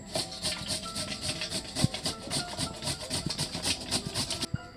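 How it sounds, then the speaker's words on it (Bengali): Raw papaya scraped against the coarse large-hole side of a kitchen grater, a steady run of rapid rasping strokes with soft thuds, close and fairly quiet. "এখন গ্রেটারের বড় পাশ দিয়ে কুচি কুচি করে কেটে নেব।"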